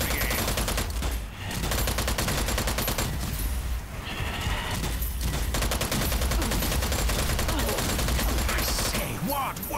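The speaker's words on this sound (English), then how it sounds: "I say, what wonderful shooting." Gunfire rattles in Strange Brigade, a dense continuous fusillade of rapid shots layered over game music and effects, loud and sustained throughout with brief dips.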